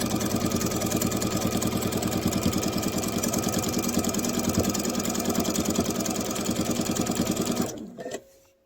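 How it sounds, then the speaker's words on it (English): A sewing machine runs continuously at speed, stitching a table runner with a dense, rapid mechanical chatter close by, then stops abruptly near the end with a brief clunk. "we're going to sew down to our last corner."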